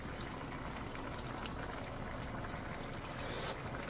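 A pot of clams with tomatoes and malunggay leaves boiling steadily, a continuous close bubbling and simmering that stays even throughout, with no talk.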